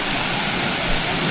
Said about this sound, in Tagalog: Ito yung pinaka-falls.